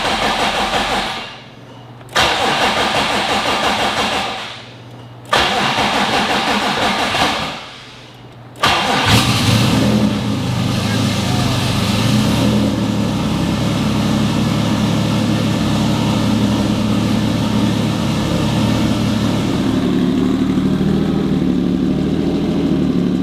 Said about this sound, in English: So crank it over a couple times just to get the oil pump spinning.